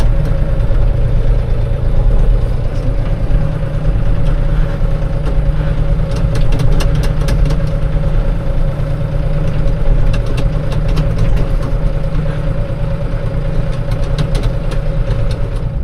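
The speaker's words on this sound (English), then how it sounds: "I had to go put that tractor up" A farm tractor engine idles steadily and close, a continuous low rumble with no break, joined by a faint metallic ticking partway through.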